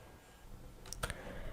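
Mouse right-click on a font file: a single sharp, close click with a second faint click just after it, set against quiet room hiss.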